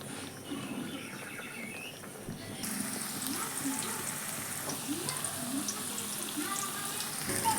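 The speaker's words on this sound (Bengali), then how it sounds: "কচু ভাজা হয়ে গেছে, নামিয়ে নিব এখন।" Pieces of taro fry in hot oil in a wok, a continuous crackling sizzle that steps up louder partway through and then holds steady, close and fairly even.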